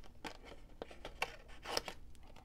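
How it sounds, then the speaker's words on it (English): Scissors fussy-cut stamped cardstock paper in a series of soft, close snips and crisp clicks at an uneven rhythm, quiet and with no talking. "So what I'm going to do is I'm going to cut this out."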